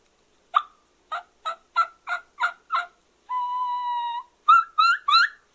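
A jagged split V diaphragm mouth call imitates a turkey, giving six crisp evenly spaced yelps, then a long sustained whistling whine, then three quick raspy yelps, close and clear with no talk.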